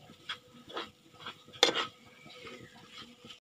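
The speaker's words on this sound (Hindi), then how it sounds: "अब आटे को अच्छे से भून लेंगे, इसके बाद अलसी को इसमें ऐड कर देंगे" Fine wheat flour stirred as it roasts in a pan on the stove for alsi pinni, with soft scraping strokes in a steady rhythm and one sharper clatter of utensil against pan midway, close and moderately quiet.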